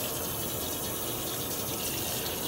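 Hot water running from a bathroom tap into a sink, a steady close rushing gush that holds evenly throughout with no voices.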